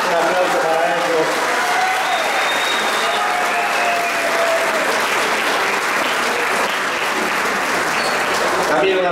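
A crowd applauds steadily at a 50th-anniversary celebration of a 1974 championship, honoring a third-division team that recently won its title. Dense, loud clapping runs for the whole stretch, with faint voices in the background.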